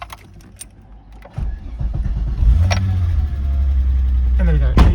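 A Volkswagen Corrado VR6 engine cranks and catches about a second in, then settles into a steady, loud idle inside the car, with a few clicks beforehand and some talk over it.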